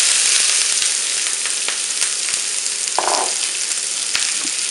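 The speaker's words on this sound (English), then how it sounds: "So now you want to get all your vegetables and put them into the pan." Vegetables frying in a hot oiled pan for a pad Thai stir fry, a steady dense sizzle with crackles and occasional pops and stirring clatter, close and continuous.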